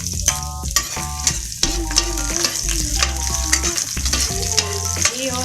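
Garlic fries in a pan at the start of a bihon gisado, crackling loudly and steadily under repeated scraping stirs, with short tonal clinks of the utensil and no voices.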